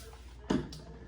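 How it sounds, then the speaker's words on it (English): Two quick spritzes from a spray bottle rinse shave soap lather, a louder burst followed by a softer one against a quiet room background. "I'm just gonna rinse with the spray bottle so I don't turn on the faucet"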